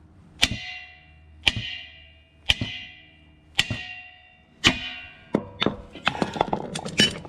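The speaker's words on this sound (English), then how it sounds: "Huge wrench, sledgehammer." A sledgehammer strikes a huge wrench on a stuck drain on a Craftsman air compressor, giving five loud, evenly spaced metallic clanks with ringing decay, followed by a quicker, messier flurry of blows.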